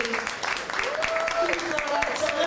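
Applause rising in a hall as a guest of honour, Her Excellency Madame Zita Nguema, is welcomed at a Sierra Leone reception, scattered sharp claps building under a speaker's voice that carries on through them.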